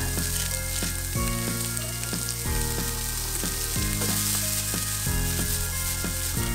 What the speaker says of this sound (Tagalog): Haluin lang ito ng konti at ilagay na ang kikiam.